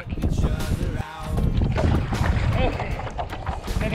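Wind buffeting the microphone while paddling a kayak on open water against the tide, a constant loud rushing gust with splashing and shifting texture throughout.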